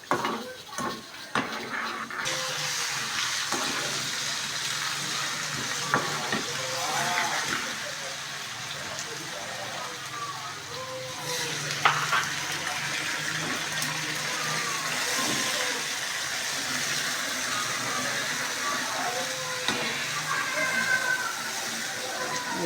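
Ground garlic, ginger and green chilies frying in a pot for Lahori-style beef paya, a steady close sizzle and hiss running throughout with occasional clinks of utensils.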